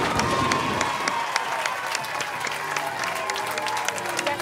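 A crowd at a women's bowling tournament applauds and cheers a championship win, dense continuous clapping at moderate distance, with an announcer talking over it and occasional higher shouts.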